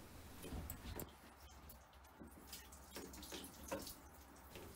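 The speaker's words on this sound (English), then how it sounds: "So we're just giving this a really nice clean with the shower head, spraying it in all those grooves" Water sprays from a shower head onto a tumble dryer condenser unit, a steady hiss with splashing, spattering and dripping into its grooves, fairly quiet and close with no talk.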